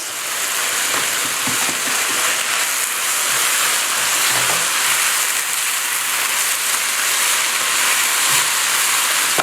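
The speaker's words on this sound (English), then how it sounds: "Let it fry 1 minute more." Stir fry sizzling steadily in a hot pan with chicken being fried, a constant loud hiss with a few soft clinks of stirring, no voices.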